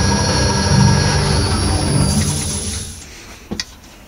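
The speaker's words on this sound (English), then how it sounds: "I'm just going to use this tool now, which is basically a sandpaper pad on the end of a steel bar" A sandpaper pad on a steel bar is pressed against a wooden vase spinning on a lathe, giving a steady rasping hiss over a high whine. The sound fades out, followed by a couple of brief knocks.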